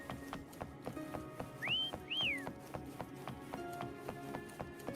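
A two-note rising whistle calls a mount in the video game Wuthering Waves, heard over steady rhythmic tapping and soft game sounds.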